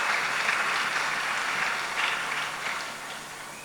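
A church congregation applauds together, a steady wash of clapping that holds at an even level and then slowly tapers off near the end.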